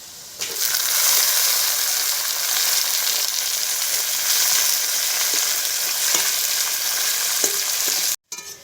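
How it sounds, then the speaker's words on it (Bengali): Tomato goes into onions frying in hot oil, giving a loud, continuous sizzle with occasional stirring clatter, then an abrupt brief drop to silence near the end. "এবার টমাটোটা দিয়ে দেবো।"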